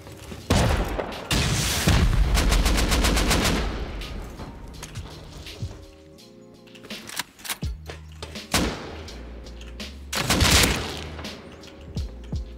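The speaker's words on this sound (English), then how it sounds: "Some shotgun traps in here." Shotgun traps fire inside a base in the survival game Rust, loud booming blasts and rapid bursts of gunfire that come in several waves with short gaps between them.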